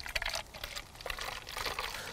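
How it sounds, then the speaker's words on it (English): Liquid solution for treating citrus gall wasp pours into a recycled plastic drink bottle, a close, splashy trickle that surges and eases in uneven bursts without any talking. "you pour your solution straight into that"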